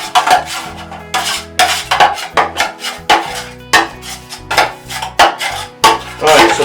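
A tool scrapes and knocks rhythmically against a pan while mixing drywall patching compound into a thick paste. The strokes are close, loud and repeated about every half second.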